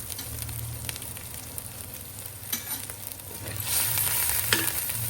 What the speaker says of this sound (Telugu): సో దీన్ని కూడా ఇందులో ఆయిల్లో వేయాలి.